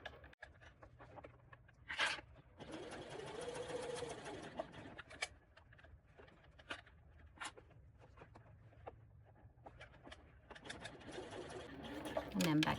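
A domestic sewing machine stitches a seam toward a turning hole in short bursts with backstitching, its motor whirring on and off at close range amid quiet handling sounds.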